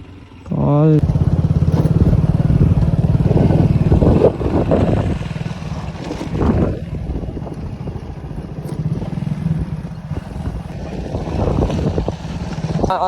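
Hero XPulse 200 motorcycle ridden off-road along a deep forest track, its engine droning steadily and close throughout, loudest early on, with wind buffeting and a voice talking over it.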